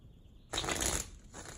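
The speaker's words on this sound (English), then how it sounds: "Last shuffle." A deck of tarot cards is shuffled once in a short, soft riffling burst lasting about half a second, followed by a fainter rustle, heard quietly with no talking.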